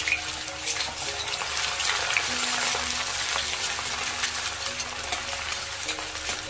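Chopped onion sizzles steadily in a mix of ghee and oil in a pan, a continuous hissing fry that stays even and close for several seconds, with no voices.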